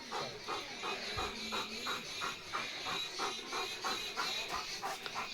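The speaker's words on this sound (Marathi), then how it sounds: "आमचा लिओ इतका भुंकत होता की त्याला किती दम लागलाय" A German shepherd pants hard and fast after a bout of barking on an evening walk, a steady rhythmic huffing close to the microphone with no one talking.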